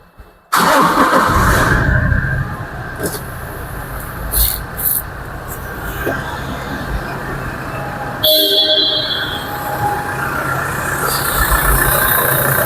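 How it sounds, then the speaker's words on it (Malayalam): A 2019 Toyota Innova Crysta engine cranks and catches, then settles into a steady, smooth idle close to the listener, with a brief horn-like tone and a surge of noise partway through. "എൻജിൻ്റെ സൗണ്ട് നിങ്ങൾക്ക് എല്ലാവർക്കും കേൾക്കാം."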